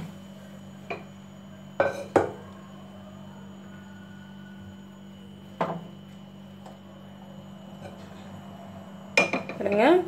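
A pressure cooker is set down in a home kitchen among steel pots and utensils while sambar is being made. Sharp metallic clanks and clinks come in scattered bursts, with a louder cluster at the end, over a quiet steady hum.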